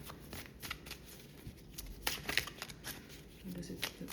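Tarot cards being shuffled by hand close by, with repeated soft riffling and flicking bursts in an uneven rhythm, quiet, while a person speaks.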